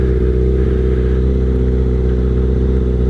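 Motorcycle engine droning steadily while riding, a loud, constant mid-pitched hum with strong low harmonics and no pauses, heard alone without talk.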